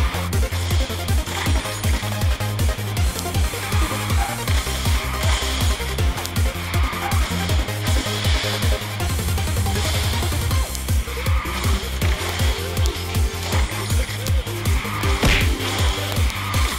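A race car in QQ Speed Mobile drifts with a loud, continuous engine drone and rapid pulsing rhythm, tire squeal and skid noise layered over backing game music throughout.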